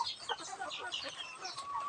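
November-hatched Agaw chickens, a flock of about 25 young birds, cluck and chirp together nearby in a dense, continuous chatter without talk.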